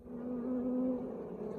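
Honey bees hum at a hive of a recently split colony, a soft, steady, close buzz with a slight wavering pitch and no talking.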